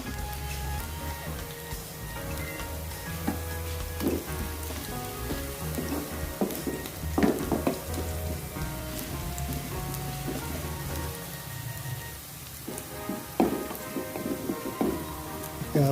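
Garlic fries in a pan over lowered heat, giving a steady crackling sizzle with scattered pops and spits. Low background tones run underneath, and there is no talking.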